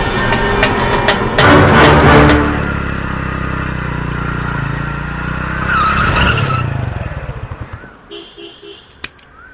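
A motorbike revving and riding off in a Telugu drama, a loud close engine roar with a skidding screech that fades away, leaving near quiet and a sharp tick at the end.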